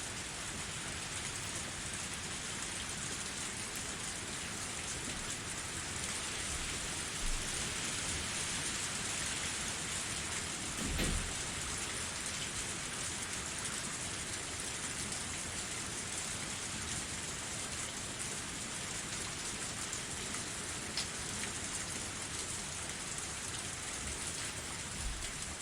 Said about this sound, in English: Only the sound of the pouring rain filled up the silence.